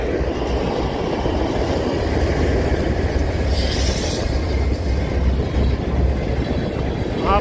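A train rumbles past close by, a loud sustained roar of wheels and cars on the rails that fills the scene without pause.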